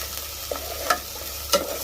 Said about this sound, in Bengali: মশলা কষানো হয়ে গেছে, মশলা আদা রসুন জিরা পেঁয়াজ বাটা হয়ে গেছে।